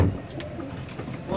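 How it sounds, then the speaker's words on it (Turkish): Tumbler pigeons coo softly in a low, rounded murmur close by while someone talks over them. "Döneyi de al, dişi döneyi."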